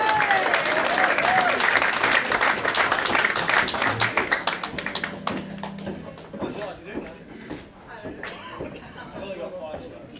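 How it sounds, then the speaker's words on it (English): Applause from a House of Blues jam-night audience welcoming a female singer, dense clapping that thins after a few seconds into scattered claps, cheers and crowd chatter. "Give her a round of applause."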